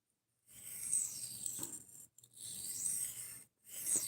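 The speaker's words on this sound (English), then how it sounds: "So now we're just going to deburr this real quick." Esee Izula knife edge being deburred after sharpening, three short dry rasping strokes of steel against an abrasive, close and quiet with brief pauses between strokes.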